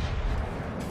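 Heavy booming gunfire from a naval video game, aimed at a surfacing submarine, fills the second as a loud, dense, low rumbling burst with no speech over it.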